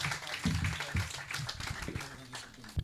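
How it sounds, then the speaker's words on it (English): A conference audience for a women's event claps in a round of applause, a dense patter of many hands at moderate distance, fairly steady across the few seconds. "Please, a round of applause for him."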